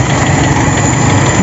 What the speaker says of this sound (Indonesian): Kita tunggu olinya naik baru kita geber teman-teman, karena kalau belum naik sayang mesinnya